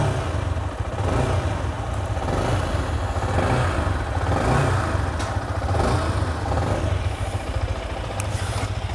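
A Yamaha R15 V3 motorcycle engine runs loud and close, its exhaust note a steady, throbbing rumble with slight rises in revs throughout, no talk over it.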